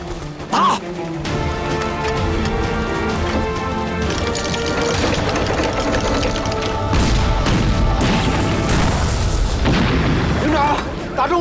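Cannon shots and exploding shells in a war drama set during the anti-Japanese war, heard as loud, continuous booming blasts and rumbling impacts mixed with shouted dialogue and a dramatic score.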